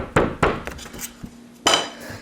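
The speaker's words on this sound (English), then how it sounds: "Drum heads look like this, and they sound like this." Drum heads struck a few times, sharp bright hits with short ringing decay and one quieter tap between them, close up and alone without talk.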